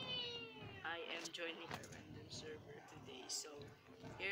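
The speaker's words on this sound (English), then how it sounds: "The cat's really funny." A Minecraft cat meows several times, short nasal mews repeating close and clear while people talk over the game sounds.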